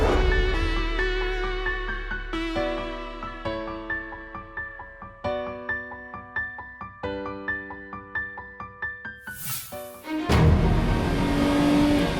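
A Lotus Elise with a 1.6-litre Toyota four-cylinder engine climbs through a mountain pass, revving up through repeated gear changes in steady rising pulls, then ends in a loud rush of wind.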